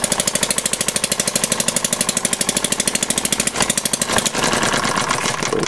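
A 1/4 scale air-cooled Thompson model engine runs loud and close with a rapid, steady chugging beat. Its rhythm roughens briefly near the end.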